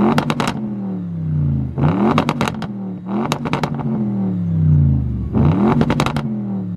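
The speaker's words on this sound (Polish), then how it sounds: "czyli dźwięk wydechu tej rasowej RS7. I posłuchajcie tylko, jak to brzmi." An Audi RS7 engine barks through its exhaust in sharp repeated revs, four loud blips rising and falling with crackling pops between them, heard close with no talk.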